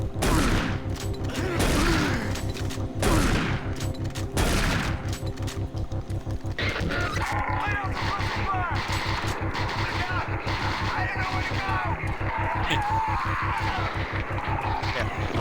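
Heavy gunfire pounds in Doom 3 BFG Edition, a dense, loud run of repeated booming shots with a few big blasts early on, continuing steadily under the action.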